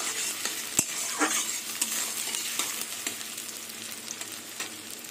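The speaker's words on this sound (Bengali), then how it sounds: "আলু দিয়ে পেঁয়াজ দিয়ে একসাথে ভাজবো।" Potatoes and onions fry together in a pan for a mustard-prawn stalk chorchori, with a steady close sizzle and a few sharp scrapes of a spatula stirring through.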